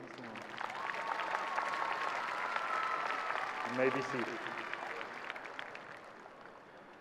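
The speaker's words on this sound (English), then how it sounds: "One last clap to you." Applause from a crowd at a University High School graduation ceremony in 2024, a broad steady wash of clapping lasting several seconds and slowly thinning, with a voice speaking over it near the middle.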